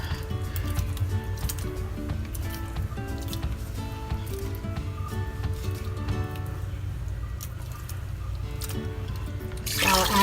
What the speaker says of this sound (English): I'll mix everything together.